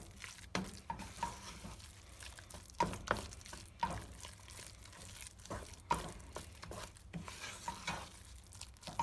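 Potato tacos being stirred around in melted butter in a pan, soft scraping and gentle sizzling in irregular strokes, quiet and close with no talking.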